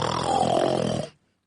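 A narrator imitates two men snoring: one long, close, rasping snore that stops abruptly, followed by silence.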